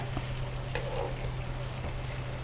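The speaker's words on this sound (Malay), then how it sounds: "Kita goreng dalam asal dia dah change colour, kita angkat ya" Shrimp for a prawn curry fry in hot oil in a pan, giving a steady close sizzle and crackle with a low hum underneath and a few brief clinks, with no talking.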